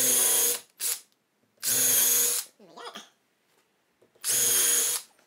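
A power drill whirs in three loud bursts separated by pauses, drilling into wood, with a brief short rev and faint scraping in between.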